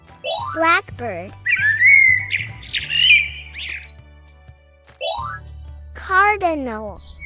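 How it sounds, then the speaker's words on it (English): A blackbird calls in a series of clear whistled and chattering notes, fairly loud and close, between short bright chime sweeps over a soft musical backing, with a voice speaking briefly. "Blackbird."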